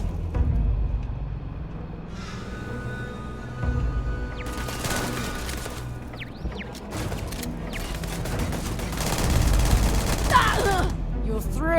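Turret gunfire and combat in the video game Starfield, with bursts of shots and impacts that come and go amid game sounds, moderately loud, with a voice talking over parts of it.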